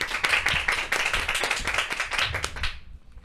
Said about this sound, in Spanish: vamos a recibir este segundo segmento con un fuerte aplauso.